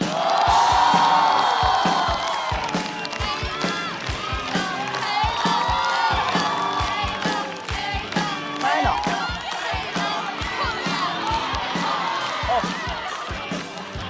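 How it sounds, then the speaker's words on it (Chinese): A stand-up comedy audience claps rapidly and cheers with whoops as a comedian is welcomed to the stage, a loud, sustained crowd roar mixed with music that lasts about fourteen seconds. "掌声有请黑灯"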